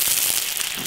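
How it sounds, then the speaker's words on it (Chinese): Blanched pig intestines hit a hot wok with little oil for stir-frying, giving a loud, dense crackling sizzle that bursts briefly and close up with no voices. "爆炒。"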